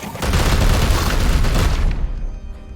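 Loud, dense burst of gunfire and booming impacts in the turn-based game Warhammer 40K: Chaos Gate - Daemonhunters, a sustained volley of shots lasting about two seconds before it trails off into quieter tail.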